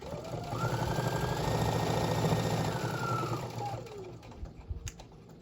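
A domestic sewing machine stitches across the bottom seam of a small fabric tote bag, a steady close mechanical whir with rapid needle chatter running for several seconds before slowing and stopping with a few clicks.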